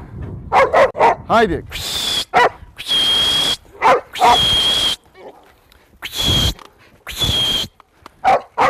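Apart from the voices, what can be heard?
Australian Shepherd dog barking while herding sheep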